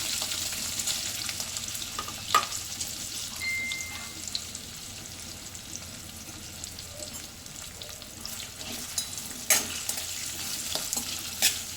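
Potatoes with turmeric fry in a pan for a masala okra dish, giving a soft, continuous sizzle broken by a few sharp clicks and scrapes of stirring.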